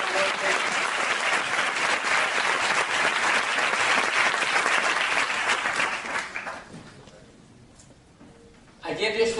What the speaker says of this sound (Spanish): un gran aplauso para Miguel y Pilar